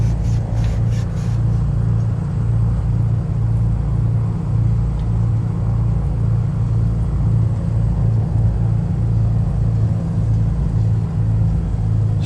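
Simulated piston engine of a Carenado Mooney Ovation taxiing in Microsoft Flight Simulator 2020, a loud, steady low droning hum with a constant throb, running alone without talk throughout.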